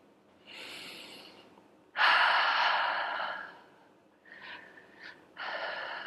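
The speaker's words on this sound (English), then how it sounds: "Breathe naturally." Loud, close breaths from a person during a morning qigong exercise for stiffness: a soft inhale, then a strong drawn-out exhale, followed by several shorter uneven breaths and a final long breath, with no talking.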